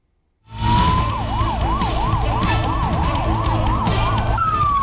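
An ambulance siren starts abruptly and wails loud and close in a rapid rising-falling yelp, with a vehicle engine rumbling underneath, responding to a fire at a chemical factory in Ankara.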